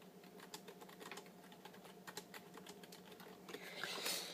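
Fingers type on a computer keyboard while playing Clash Royale, producing quiet, irregular key clicks in quick bursts, close and faint, with a slightly louder rustle near the end.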